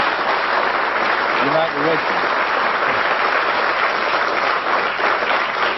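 An interview audience applauds Muhammad Ali, a broad wash of clapping from a crowd that swells and holds for several seconds while someone speaks briefly over it.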